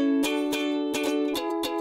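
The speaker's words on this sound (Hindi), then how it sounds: "ये गिटार की आवाज है।" Guitar notes played as a round in a sound-guessing game, five plucked strums in a loose rhythm, each bright attack ringing out over a sustained tone, clear and close with no talk.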